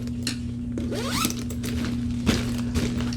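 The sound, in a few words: zipper of a sling bag being opened or closed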